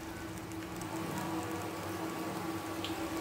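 Hilsa fish frying in oil gives off a dense, even sizzle like steady rain, with small crackles over a faint hum, close and unbroken for a few seconds with no speech.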